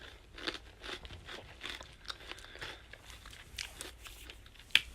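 Close, quiet crunching as dried mulberries are chewed, a run of irregular crisp bites and munches with no talking.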